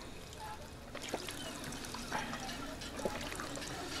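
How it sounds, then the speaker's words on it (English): A character takes a sip of water in Fallout 4, heard as a quiet liquid trickle and pour with a few soft gulping clicks, faint and alone over low background hum. "Let me take a sip of water before I get going."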